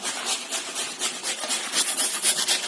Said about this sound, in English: with the rest of the carrot on a normal grater you're going to grate the carrot down